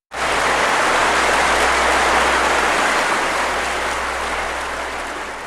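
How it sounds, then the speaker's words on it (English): A crowd applauds loudly in a dense, steady wash of clapping that starts abruptly and slowly fades over several seconds, with no talking. "I guess that was them applauding for the Virgin of Governor's Island"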